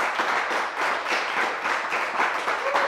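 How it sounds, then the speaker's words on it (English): A round of applause from the audience at a quiz show, steady clapping from a moderate crowd that fills the brief moment at a fairly even level, with no talk over it. "Ladies and gentlemen, round of applause."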